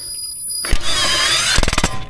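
A pneumatic impact gun spins brake hardware on a Mercedes E350 W212 during a pad and rotor job. After a quiet start it gives a loud sustained whine, then a run of short rapid bursts as the trigger is feathered.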